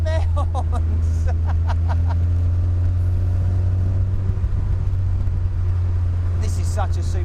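A Mazda MX5-engined Indy car drives with a steady, loud low engine drone and rumble throughout, with some speech-like babble over it.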